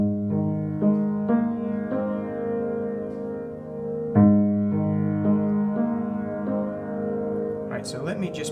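Smooth left-hand tenths on piano, a series of sustained harmonic chords struck roughly every half second to second with long ringing decay, played alone at moderate volume, with a brief rustle near the end.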